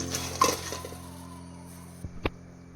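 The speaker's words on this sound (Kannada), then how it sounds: "ಇದನ್ನು ಸ್ವಲ್ಪ ಫ್ರೈ ಮಾಡಿಕೊಂಡು ಸ್ವಲ್ಪ ಫ್ರೈ ಮಾಡ್ಕೊಳ್ಬೇಕು ಹೀಗೇನೆ" Dried fish being fried and stirred in a pan, heard as quiet scraping and clinks of a spoon against the pan over a faint sizzle, with a couple of louder knocks near the end.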